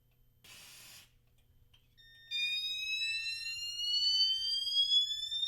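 A smoke alarm triggered by canned test smoke: a brief hiss of spray, then a loud, continuous high-pitched electronic alarm tone that starts abruptly and keeps sounding, close and steady.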